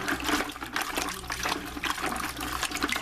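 An aquarium sponge filter from a Fluval canister setup rinsed under a running tap, water splashing and gushing close up with choppy bursts as the sponge is squeezed and turned.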